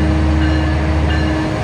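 A passenger train rumbles steadily along the rails, a constant loud low roar with faint rattling and a thin high whine above it.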